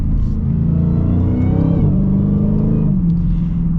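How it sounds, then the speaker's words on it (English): A 2023 Dodge Challenger Hellcat's supercharged V8 accelerating hard while struggling for traction, a loud, deep rumbling roar that climbs in pitch, dips and rises again, close and alone with no talk. "The Hellcat always struggles for traction, but I mean, listen to how good that sounds."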